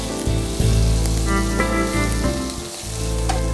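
Curry leaves and onions sizzling in a pan of oil, a dense, continuous crackling fry, loud and close, with a few brief stirring shifts and no voices.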